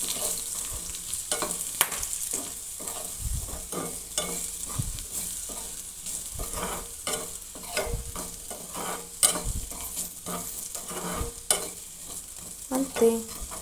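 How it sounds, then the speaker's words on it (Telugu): Sweet corn being stirred with salt, chili powder and chaat masala, a steady scraping and clinking of a spoon through the kernels with soft sizzle underneath, irregular strokes throughout. "ఇప్పుడు మీకు చూపించిన ఉప్పు, కారం, చాట్ మసాలా ఇందులో వేసేసి బాగా మిక్స్ చేయాలన్నమాట"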